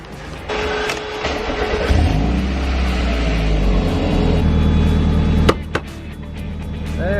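A Mazda NA Miata cranks and fires up, starter whirring before the engine catches into a rough, loud idle close by that settles and runs on, with a couple of sharp clunks near the end.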